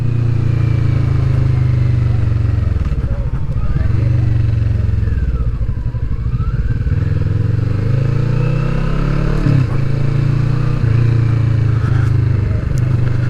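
Kawasaki Vulcan S Performance 2020 motorcycle ridden on the road, its engine droning steadily and loudly throughout with small rises and dips in pitch as the throttle shifts, plus wind rush.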